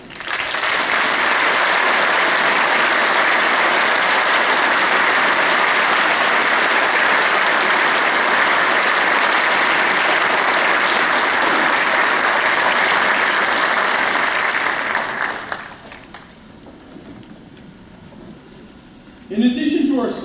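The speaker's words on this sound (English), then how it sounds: "please honor these students with your applause" Sustained, loud audience applause fills a high school graduation hall for about fifteen seconds, honoring graduating students, then fades abruptly into quiet room tone with a brief rustle at the end.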